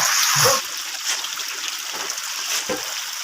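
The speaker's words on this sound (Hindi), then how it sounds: "अभी पानी गिरत है" Steady rain falling outdoors in a village, a dense broadband hiss of drops and splashes running throughout at a fairly loud, constant level, with a few brief louder spatters and no talk.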